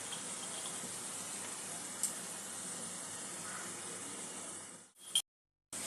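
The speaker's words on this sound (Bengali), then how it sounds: "সামান্য একটু জল দিয়ে মশলাটা ভালো করে কষিয়ে নেব" Water poured into a pan of ground cumin, Kashmiri red chilli, turmeric, chilli powder and salt while cooking bhindi curry, a steady close hiss and splash that runs evenly for several seconds, then cuts off.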